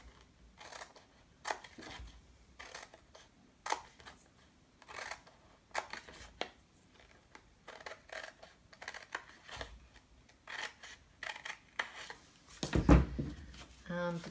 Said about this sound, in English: I'm going to get my big scissors, and I'm just going to cut there and then cut up each one of these score lines